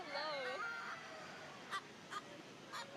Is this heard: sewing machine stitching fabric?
no